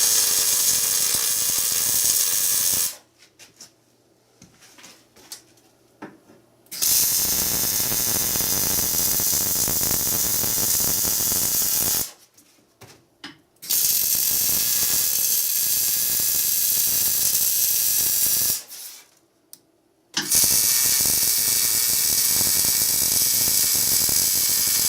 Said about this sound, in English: Okay, so we're good to weld.